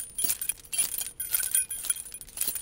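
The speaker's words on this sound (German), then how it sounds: "Das metallische Klirren der Schlüssel imitiert überraschend gut das Geräusch von klirrenden Rüstungen" A bunch of car keys jangles and clinks in several quick, close bursts, the shaken metal standing in as foley for clanking armor.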